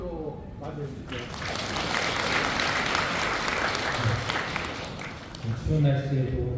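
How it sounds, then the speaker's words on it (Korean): Audience applause greets the chairman at a residents' briefing on the Hanyang 5-6 complex reconstruction. The clapping swells and holds steady through the middle, with speaking over the PA before and after it. "큰 박수로 맞이해주시죠."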